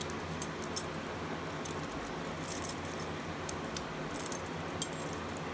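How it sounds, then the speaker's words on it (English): Keys jangle faintly in short, scattered bursts as someone grabs a set beside a fire alarm panel during a bedroom fire alarm test, with small metallic clinks and a low background hum. "Let me grab my keys."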